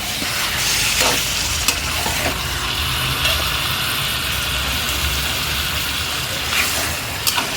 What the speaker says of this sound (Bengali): এবার আমি আস্তে আস্তে কষিয়ে কষিয়ে রান্নাটা করব, যেহেতু চিকেন কষা হবে তার জন্য